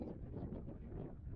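Wind gusting across the sandstone formations of Cathedral Gorge State Park, Nevada, on a very windy day, a low rumbling buffet of steady wind noise on the microphone, with no voices.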